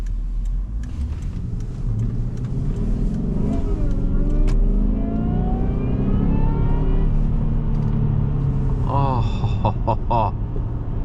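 A 2005 Jaguar XJR with a five-speed transmission accelerates on the road; the engine note climbs repeatedly through the gears, loud from inside the cabin, with some talking over it.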